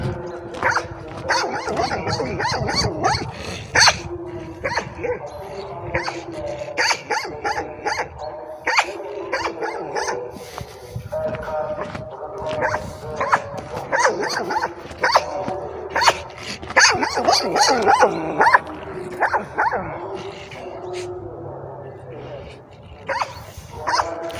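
A dog barks repeatedly in short, loud bursts while people talk over it throughout.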